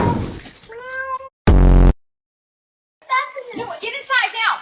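A cat meows in short, high, wavering cries near a house doorway, with a voice and other talk around it and an abrupt loud burst of noise between.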